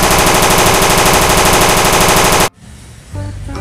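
A toy AK-101 rifle fires a loud, rapid, continuous electronic burst of gunfire that cuts off abruptly after about two and a half seconds, leaving a quieter hum behind.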